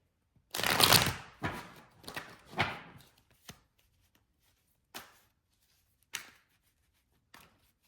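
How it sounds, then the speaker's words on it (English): Tarot cards are shuffled by hand in several quick, crisp riffling bursts, the longest near the start, followed by sparser single flicks and taps with quiet gaps between, close and soft. "Now we will shuffle the tarot."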